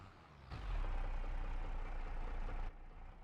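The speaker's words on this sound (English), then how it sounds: "Just hoping by using the bigger, more horsepower tractor we can get it done a little bit quicker." A big high-horsepower tractor engine in Farming Simulator 25, on an Irish farm map at night, runs as a loud steady low rumble with a harsh hiss that starts abruptly and cuts off after about two seconds, no talk.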